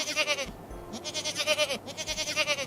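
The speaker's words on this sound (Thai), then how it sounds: "เป็นเสียงของแพะค่ะ goat again goat" A goat bleats close by in one long wavering cry with a shaky, vibrating tone.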